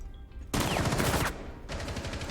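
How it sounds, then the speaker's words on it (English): Automatic gunfire in the video game Rainbow Six Siege during a college esports match, two loud sustained bursts of rapid shots separated by a brief pause, heard without commentary over them. "gunshots are going to be fired."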